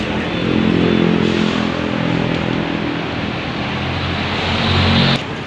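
A Faizzo motor scooter dosed with GTO oil additive runs at a steady, close idle, a low droning hum that holds evenly for several seconds before cutting off near the end.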